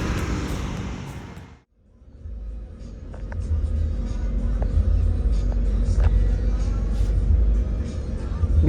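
An Indonesian long-distance coach bus bound for Jepara, Central Java, rumbles along the road with a deep, continuous engine drone and road noise from inside, briefly cutting out before rising steadily again, with faint clicks and rattles.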